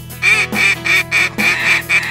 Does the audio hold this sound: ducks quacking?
yes